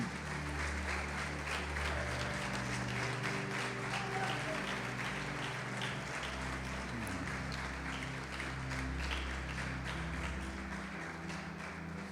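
Church congregation applauding and glorifying Jesus during a sermon, a steady mass of clapping held under sustained organ or keyboard tones, moderately loud throughout.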